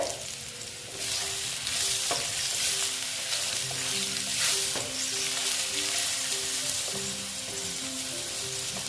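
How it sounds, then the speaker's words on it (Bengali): Potatoes with turmeric fry in hot oil, a steady close sizzle with occasional stirring scrapes throughout, for a cauliflower, potato and bori curry with koi fish. "দেখো ভেজে নিচ্ছি আলুগুলো"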